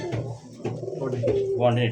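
Soft coos from two hand-held pigeons, low and throaty, close by, with bits of talking mixed in.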